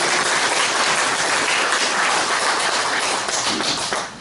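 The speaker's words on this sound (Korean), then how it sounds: "다시 한번 큰 박수로 감사의" Congregation applause in thanks for a pastor at a New Year's thanksgiving church service, a loud, dense, continuous clatter of many hands that fades slightly at the very end.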